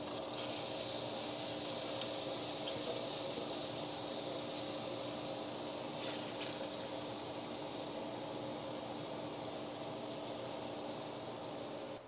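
Tap water runs steadily into a Ruvati workstation kitchen sink during cleanup, a continuous broadband hiss and splash that stays fairly loud and even for the whole stretch, with no voices.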